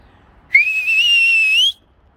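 A single clear human whistle, a sustained rising-and-holding note lasting about a second, loud and close against a quiet background with no talking.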